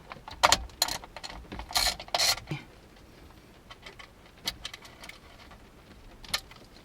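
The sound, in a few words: 8mm socket turning a ground bolt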